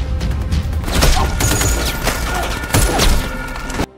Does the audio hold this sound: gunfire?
yes